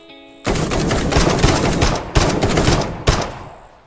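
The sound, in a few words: gunshot headshot in Uncharted-style video game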